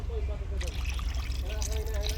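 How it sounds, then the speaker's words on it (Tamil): Water poured from a pot into simmering okra curry, a steady liquid trickle and splash lasting about two seconds under a talking voice. "இன்னொரு சொம்பு தண்ணி அதில் வந்து ஃபுல்லாக ஊற்றல,"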